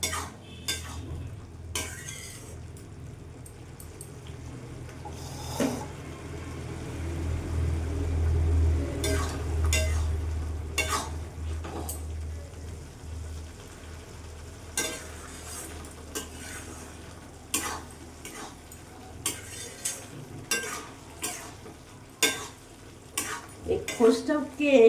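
Khus and potato mixture for a poppy-seed-style aloo posto, with green chili and tomato, stir-fried in a pan: a low steady sizzle under repeated scraping and clinking of a spatula against the metal, with scattered sharper knocks throughout.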